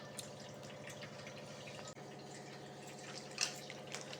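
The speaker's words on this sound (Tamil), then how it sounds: "ஸோ தண்ணியில் போட்டு நல்லா வாஷ் பண்ணிக்கிறேன்" Okra is washed in water, with soft drips and light splashing close by over a steady low hum, and one brighter splash near the end.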